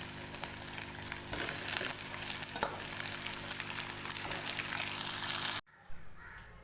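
Eggplants stuffed with chicken mince go into a pan of ghee and masala, setting off a steady loud sizzle for several seconds before it cuts off sharply, leaving a quieter tail.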